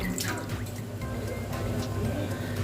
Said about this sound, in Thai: ตักขึ้นตะกร้านะคะแล้วก็พักพักเสด็จน้ำไว้ก่อนค่ะ